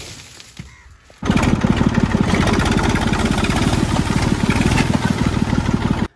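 A tractor engine, loaded about halfway with leaves, runs loud and steady at close range after a quieter first second. A rhythmic chugging pulse continues throughout.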